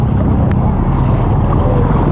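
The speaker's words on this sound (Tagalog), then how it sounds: "Ang lakas ng tubig oh." Strong river water rushes at Daraitan in Tanay, Rizal: a loud, steady, close roar of flowing current with some wind buffeting the microphone and no talking.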